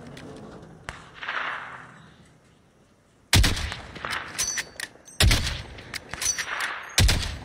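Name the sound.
sniper gunfire in the video game Call of Duty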